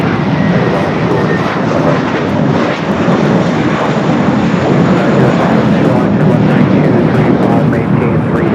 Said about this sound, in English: 777 freighter going to be taken off here on the south side